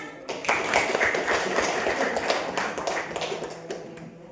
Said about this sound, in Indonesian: tepuk tangan untuk Anas